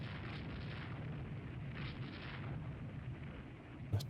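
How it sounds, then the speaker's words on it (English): 8-inch naval shells fire and burst in a Rule the Waves 3 battle against a French heavy cruiser of the Montcalm class, a steady low rumble of distant booms with a sharper crack near the end. "Another 2 8-inch shells."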